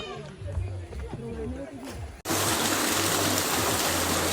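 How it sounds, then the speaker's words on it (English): Waterfall on Mount Meru, Tanzania: after a stretch of talk and footsteps on the trail, a loud, steady broadband roar of falling water suddenly fills the scene and continues unbroken. "at the end, we got to see the waterfall, which you're about to see in this video"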